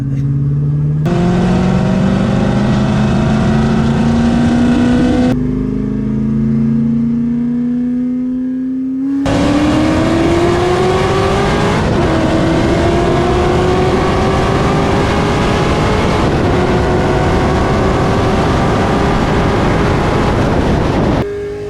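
A powerful Corvette ZR1 engine with aftermarket heads and cam roars at full throttle, climbing in pitch through several gear shifts with short drops between them. It is loud, close, and continuous.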